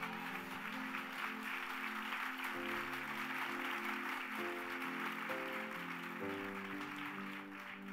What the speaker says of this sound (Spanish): ¿Cuánto da un aplauso fuerte a Jesús?